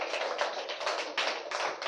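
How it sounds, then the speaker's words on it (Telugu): A church congregation claps hands together in a quick, even rhythm, with many hands blending into a continuous patter at moderate volume from a little distance. "అందరూ చప్పట్లు కూడా ఒకసారి."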